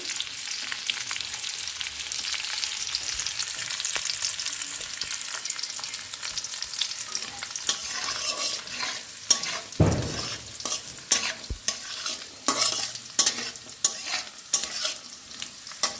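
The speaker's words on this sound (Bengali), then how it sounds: "বড় এলাচ ছোটো এলাচ দারচিনি এবং লবঙ্গ এটা ঘিয়ের ভেতরে দিয়ে দিলাম" Whole black and green cardamom, cinnamon and cloves sizzle in hot ghee, with a steady crackle and stirring scrapes that get sharper and more broken toward the end.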